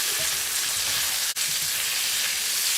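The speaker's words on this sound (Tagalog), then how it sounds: "Lagyan na natin ang onion." Onions fry in a pan, giving a loud, steady, close sizzle that carries on throughout.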